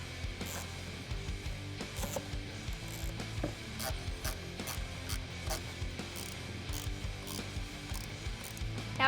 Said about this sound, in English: I do have a 1/4 inch wrench here.